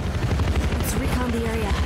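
An incoming helicopter in the military shooter Battlefield 4, set in Kashgar, China: a steady low rotor thump pulses beneath a voice, with faint gunfire around it.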